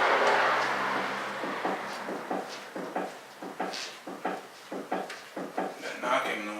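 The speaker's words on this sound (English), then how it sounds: "that knocking noise, which means the strut assembly is moving around inside there" Repeated knocking from a worn front strut assembly on a 2007 Chevrolet Cobalt, a string of sharp, fairly close thumps in an uneven rhythm after a louder opening rumble.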